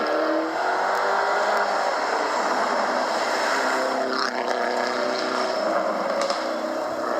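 A Mini Cooper rally car drives through a stage of the Rajd Małopolski 2024 rally, its engine giving a steady loud roar with rising revs, heard from a distance.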